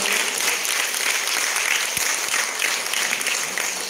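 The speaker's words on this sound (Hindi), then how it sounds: "तालियों में कंजूसी नहीं करनी चाहिए।" Sustained audience applause at an Independence Day celebration, welcoming the chief guest at a teachers' association school function in Nagpur: dense, steady clapping from a large crowd, loud and continuous throughout.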